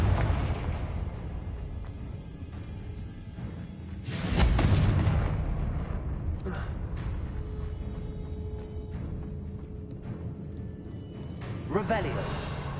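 Confringo blasting spell cast in a wizarding video game, a loud booming burst around the middle followed by smaller explosive pops and lingering rumble over steady game background.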